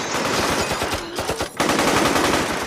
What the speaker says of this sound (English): he's ambushed and gunned down by rival mobsters armed with Tommy guns